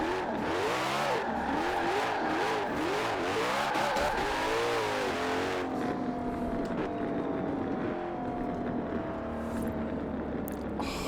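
Koenigsegg Jesko engine revving in the video game Forza Horizon 4, repeated rising sweeps through quick gear changes, then a steady high-pitched drone at speed.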